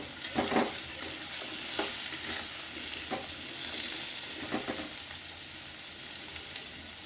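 Potato and papaya pieces frying in a pan produce a continuous close sizzle, with several spatula stirs and scrapes standing out at irregular intervals.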